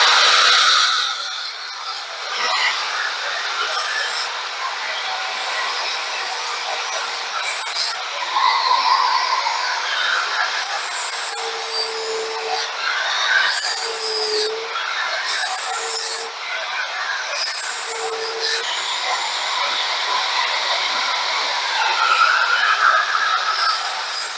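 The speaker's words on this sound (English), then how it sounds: "Probably pick up the grinder for a second and then little flapper action" Angle grinder fitted with a flap disc grinding down a weld on a 1955 Chevy Nomad, a loud steady abrasive rasp that runs continuously and surges in bursts with short dips between passes.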